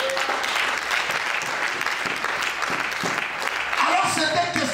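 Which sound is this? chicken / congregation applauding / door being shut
congregation applauding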